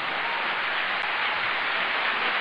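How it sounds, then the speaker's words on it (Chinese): Steady, dense applause fills a church gathering in an even wash of clapping with no clear breaks, fairly close and constant throughout. "我们再继续热烈鼓掌，让他们在后台听得到哈"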